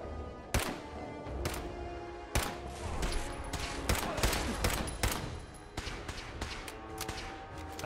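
Laser pistol fire in Fallout 4 comes as a series of sharp, scattered zapping shots at irregular intervals, some close and loud, others fainter, over a background of game action.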